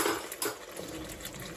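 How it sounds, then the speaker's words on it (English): A spoon is pulled out of a kitchen drawer with a brief metallic clatter of cutlery, a quick burst of jangling. "Let me get a spoon."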